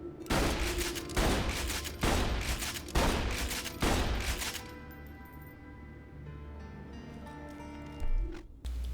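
Jolly Roger gun from Borderlands 2 firing four loud, heavy blasts spaced about a second apart, each ringing out, followed by fainter game sounds and a last thump.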